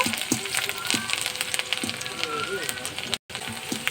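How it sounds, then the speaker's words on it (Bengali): Chopped garlic sizzles in hot oil, a steady crackling fry with occasional stirring clicks, close and moderately loud, with a voice talking over it. "রসুন কুচানো দেব,"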